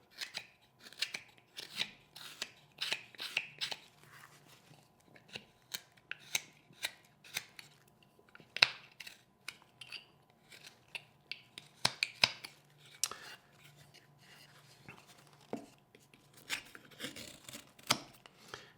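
Knife carving wood for a stop cut, crisp scattered snips and scraping strokes, close and fairly quiet, irregular bursts across the clip with no talking.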